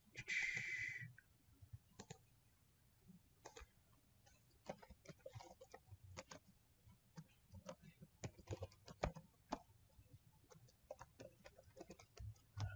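Scattered clicks of typing on a computer keyboard, soft and irregular, mixed with quiet background noise and faint talk.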